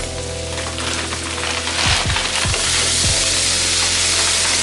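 Onion and pepper blend hitting a pan of frying cabbage, a steady loud hiss and crackle of sizzling throughout, with a few soft knocks of a utensil against the pan.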